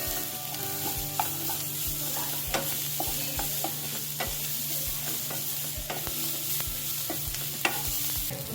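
Onion, ginger and garlic fry in a pot for chana masala, a steady close sizzle broken by regular sharp clicks and scrapes of a spoon stirring, with no voices.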